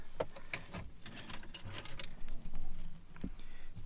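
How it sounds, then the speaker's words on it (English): Keys jangle and clink near and fairly loud in several quick bursts as a key goes into the ignition of a 2003 Peugeot 307, with faint car interior ambience between the rattles. "Oh, I have to put the key in the ignition."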